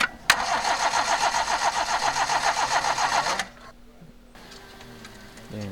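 A Toyota Corolla XE engine cranks during a fuel pump test: a loud, rhythmic starter whir with regular pulsing for about three seconds, then cuts off, leaving a quiet background with faint clicks.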